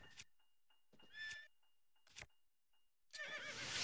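A horse in Zelda: Breath of the Wild gives a loud whinny at the end, after scattered short snorts and hoof clops separated by silence.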